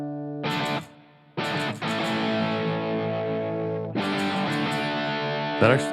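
An electric guitar through a RAT distortion on a Donner Arena 2000 multi-effects processor plays several sustained, gritty chords separated by brief pauses, loud and close.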